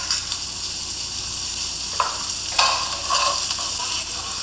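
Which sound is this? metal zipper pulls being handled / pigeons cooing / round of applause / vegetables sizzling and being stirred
vegetables sizzling and being stirred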